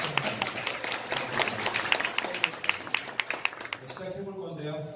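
A seated audience at a business presentation claps for first-time attendees, a dense patter of applause that fades out as a voice starts speaking.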